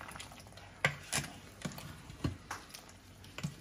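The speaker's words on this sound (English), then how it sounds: "So let's give it a good stir." A spoon stirs beef bourguignon in an Instant Pot pressure cooker, giving soft wet scrapes and a few sharper knocks against the pot, close and fairly quiet, with no talk.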